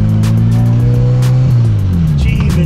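Loud, strained engine note of a 1000bhp Honda Civic under boost during wheel spin, a steady high drone that rises in pitch with intermittent clatter and rattles from the car.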